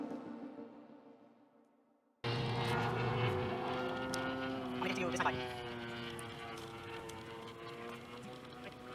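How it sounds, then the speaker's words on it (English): An autonomous aerial robotics aircraft flies with a steady propeller drone that starts abruptly after a quiet, fading opening and holds fairly level, mixed with wind and light background noise. "The second proof of safe flight video is a demonstration of autonomous capabilities, transitioning from manual to autonomous flight."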